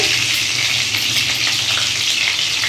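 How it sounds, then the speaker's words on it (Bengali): Potatoes seasoned with salt and a little turmeric fry in a pan with a steady, close sizzle, with occasional stirring clinks over it. "নুন আর অল্প হলুদ দিয়ে দিলাম এবার আলুটা আমি ভালো করে ভেজে নেব"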